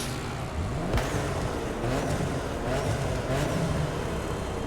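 A car engine in The Crew Motorfest racing game revs and drones steadily at close range, with rising pitch sweeps as it accelerates over a continuous rumble of road noise.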